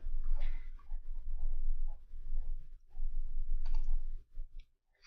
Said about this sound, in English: I'm going to click create filter